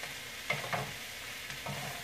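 Shredded cabbage cooks down in butter in a pan over medium heat, a quiet steady sizzle broken by a few light stirring scrapes, close up and without voices.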